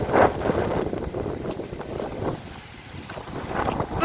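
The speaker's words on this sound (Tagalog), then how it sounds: "Lakas ng hangin" Strong wind gusts buffet the microphone in heavy rain by the sea, with rough waves; a steady broadband roar swells and eases over the seconds without speech.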